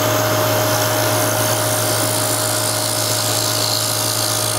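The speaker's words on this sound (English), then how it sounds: "And then I come back with my roughing gouge and I bring all my cuts together." A roughing gouge cutting wood on a lathe while turning a wooden hummingbird birdhouse: a loud, continuous whirring, grinding drone with a steady hum underneath and no pauses.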